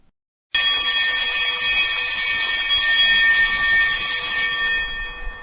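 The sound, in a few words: fire alarm ringing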